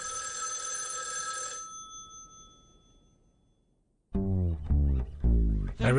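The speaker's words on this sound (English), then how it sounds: "Five minutes later, the phone rang. I let it ring and went to bed." A telephone bell rings with steady bright tones, then fades away into near silence before a voice starts speaking.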